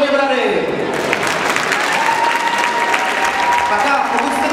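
Loud, sustained applause from an audience at a 2015 country music event in Pardubice greets a country dance group, starting abruptly and holding dense and even to the end.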